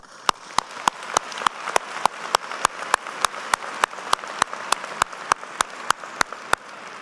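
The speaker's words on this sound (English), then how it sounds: "Please join me in congratulating them with a round of applause" Applause from the audience at a Penn State Smeal College of Business spring commencement, carried by a steady wash of clapping with sharp, evenly spaced clicks running through it.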